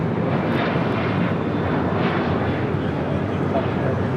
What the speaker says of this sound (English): Next departure, Southwest Airlines flight 1188 heading to Houston, Texas in a